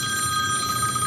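During a city council meeting a mobile phone rings with a steady, bright electronic trill that stays clear and unbroken, and no one speaks over it.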